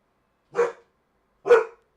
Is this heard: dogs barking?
yes